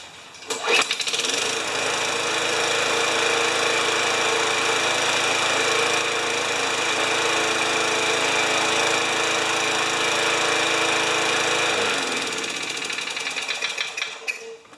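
Yard Machines lawn mower engine catches after a brief start and runs loud and steady at a high idle, a constant close buzzing drone with harmonics that holds for about eleven seconds before cutting off abruptly.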